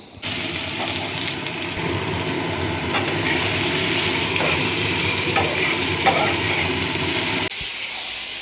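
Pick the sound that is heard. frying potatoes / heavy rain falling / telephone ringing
frying potatoes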